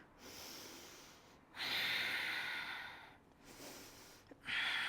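Deep breaths drawn in and pushed out while holding a side plank yoga pose, three loud airy breaths separated by short pauses, close and clear with no talking.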